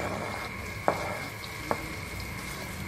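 Sliced shallots, garlic and spices frying in oil in a pan: a quiet, even sizzle with two small clicks of a utensil, close and steady, no talk.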